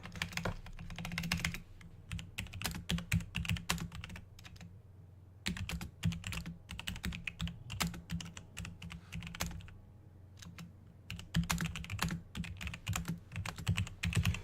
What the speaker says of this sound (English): let me type that in real quick before I forget